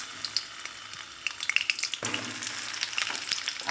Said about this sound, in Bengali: দেখো পটলগুলো ছেড়ে দেবো।